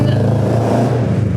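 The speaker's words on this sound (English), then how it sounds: "It's just a really old car." An old car's engine revs at close range, a steady, loud mid-pitched drone with a rough clattery texture that holds for a moment and shifts slightly near the end.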